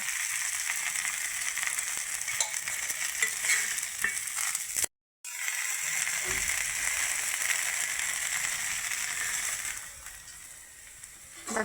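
A potato dish shallow-fries in oil, giving a loud continuous sizzle with a short silent break partway, then the hiss resumes and fades slightly near the end.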